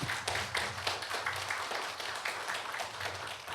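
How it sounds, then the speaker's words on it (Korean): An audience at a Korean tea culture symposium claps for four lecturers, a moderately loud patter of individual claps that stays fairly even throughout, with no voices over it. "우리 네 분의 강연자 선생님들께 다시 한번 큰 박수 부탁드립니다"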